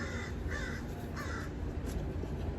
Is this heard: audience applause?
no